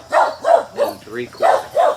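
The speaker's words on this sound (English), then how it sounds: "that's my dog barking" A dog barks about six times in a quick, even series, close and loud, with a brief spoken phrase mixed in.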